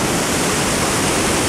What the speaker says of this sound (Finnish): Tuo vauhti, millä tuo vesi virtaa, on aivan uskomaton. Ja nuo kuohut, miten se tyrskyää tuossa.